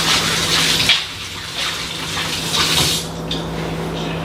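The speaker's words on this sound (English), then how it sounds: "Let me rinse my hands off real quick." Hands rinsed under a running kitchen tap while baking a pound cake: a steady close hiss of flowing water with splashing shifts as the hands move through the stream.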